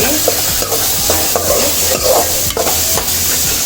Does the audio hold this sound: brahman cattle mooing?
no